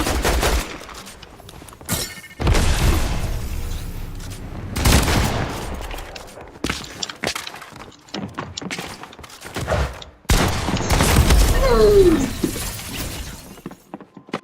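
Laser weapon fire in the video game Fortnite: several loud bursts of rapid blasting with shattering crashes, separated by short lulls over about fourteen seconds.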